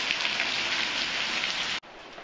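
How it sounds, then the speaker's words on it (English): Rain falls steadily in breezy, nasty weather, a close continuous hiss that drops out sharply near the end and resumes more faintly. "I like it when it rains."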